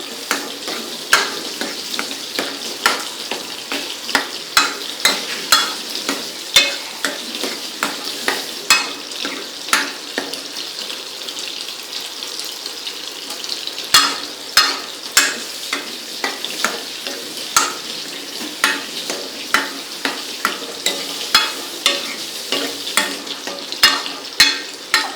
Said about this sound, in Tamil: ஸோ இந்த மீன் குழம்பு இன்னும் கொஞ்ச நேரம் நம்ம கிண்டுவோம்.